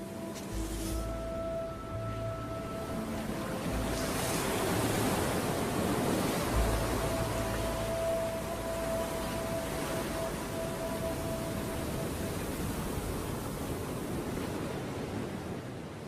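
Ocean waves wash onto a sandy island beach in a broad, continuous roar of surf that swells and eases gently over several seconds, with no voices.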